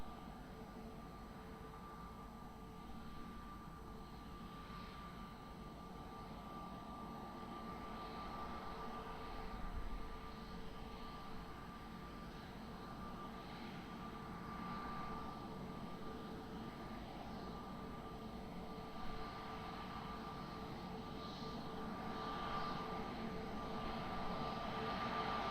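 An airliner lands on runway 20 at Lisbon Airport, a distant, faint, steady jet rumble with a low roar that builds slightly over about twenty-five seconds.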